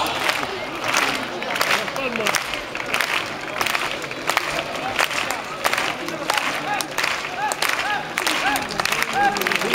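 Crowd at a competition event in Fitero, Navarra, clapping along in scattered bursts beneath an announcer's voice over a public address, with a busy, reverberant background of many people.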